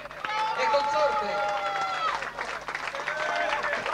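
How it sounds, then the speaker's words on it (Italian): Applause from an audience at a 1992 evening event at Villa Fortunata, honoring the event organizers, with an announcer's voice heard over the clapping. "Io vi chiedo un grande applauso per il Club Disco Weekend nella persona del signor Auteri e consorte"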